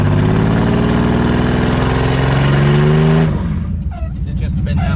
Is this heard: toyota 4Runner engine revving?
yes